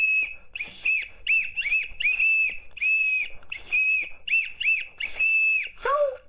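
A fruit-flavoured emoji whistle candy is blown in a string of shrill, steady toots, a dozen or so short and long blasts in an irregular rhythm, ending in a falling, wavering note.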